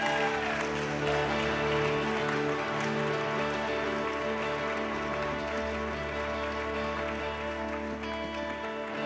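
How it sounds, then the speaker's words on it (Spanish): A church congregation applauds loudly and steadily for the full stretch, its dense clapping sitting over a sustained musical tone, probably organ or keyboard, that holds underneath. "Denle un fuerte aplauso."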